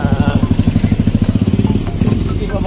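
Crowded motorcycles idling and revving close by, a loud rapid pulsing engine throb with a brief surge, while a person talks over it.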